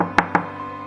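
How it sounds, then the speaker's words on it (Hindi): Cartoon door knock: two quick, sharp raps close together, alone over a faint, steady background hum. "राजू पहचान पत्र पर लिखे पते पर पहुंच गया और दरवाजा खटखटाया"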